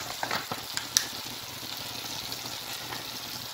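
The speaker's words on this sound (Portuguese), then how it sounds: "agora eu boto o molho para dar um pouquinho mais de sabor e cor" Sauce poured over cooked ground meat in a pan for lasagna, setting off a steady soft sizzle with a few stirring scrapes and small pops early on, no talking.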